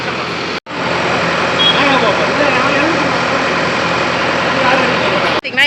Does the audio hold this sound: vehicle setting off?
yes